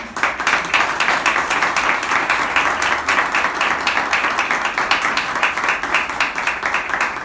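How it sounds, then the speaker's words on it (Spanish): Sustained audience applause at a tribute event honoring a film actor at a western-themed cinema museum in Almería, a steady dense wash of many hands clapping at close range throughout, with no voices over it. "Un aplauso para ella."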